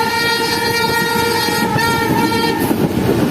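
The Zikriya Express rolls toward Multan with a loud, sustained horn blast sounding over the constant rumble and rattle of the moving carriages, heard close from on board.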